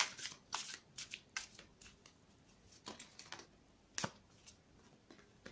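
Tarot cards are shuffled by hand in quick, crisp riffling bursts with short pauses between them, close and fairly quiet, and no one talks.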